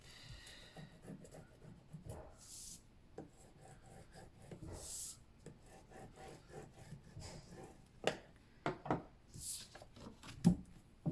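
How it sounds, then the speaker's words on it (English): A tool burnishes paper down onto tape for a magazine folio, giving quiet, dry rubbing and rasping strokes that come in uneven bursts and grow a little louder and sharper toward the end. "I'm carefully burnishing that on the tape"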